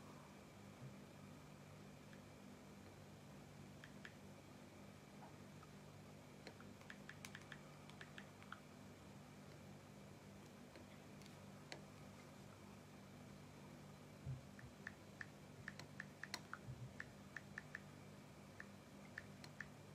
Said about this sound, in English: I'm typing out something by Fashola.